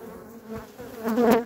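Honey bees buzz steadily at a beehive, a close droning hum that swells louder toward the end as the insects move near, with no talk.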